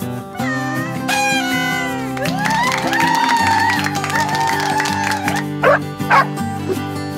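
A cartoon cat meows in a children's song, the bright rising-and-falling calls riding over steady backing music with a few short sharp accents near the end.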